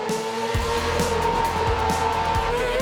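Autocross race cars compete at an FIA European Autocross Championship round at Matschenberg: a loud, continuous engine roar with repeated whooshing pass-bys and tire noise as several cars race close together.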